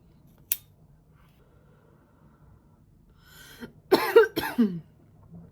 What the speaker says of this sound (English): I know I'm coughing a little bit here and there